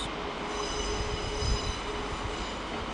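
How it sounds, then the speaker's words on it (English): A Coradia regional train of the Bayerische Regiobahn rolls into München Hbf with a steady low rumble and a thin, sustained wheel squeal, fairly close and alone. "These particular trains, I believe, are Coradia units."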